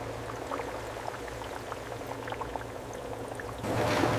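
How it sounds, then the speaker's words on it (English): McDonald's fries fry in hot oil with a continuous crackling sizzle and fine popping bubbles, close and moderately loud, that swells brighter over the final half second. "Frying begins to create that signature golden texture."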